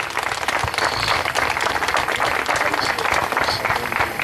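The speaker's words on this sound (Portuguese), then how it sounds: "E umas palmas bem bonitas para Jesus" A church congregation claps for Jesus during a revival service, with loud, continuous applause from many hands sustained throughout and a few voices mixed in.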